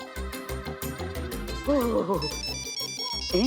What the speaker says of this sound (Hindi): संतोष जी फोन